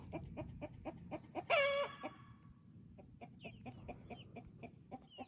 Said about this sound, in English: What's the rooster telling us?